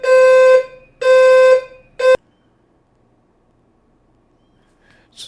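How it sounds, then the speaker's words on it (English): A building fire alarm sounds in three loud, harsh buzzing blasts, two long and one shorter, then cuts off into near silence before a faint sound returns at the end. "something set off a fire alarm"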